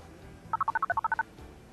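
Eleven quick telephone keypad tones beep in an even run, each short and clear, followed by quiet background noise.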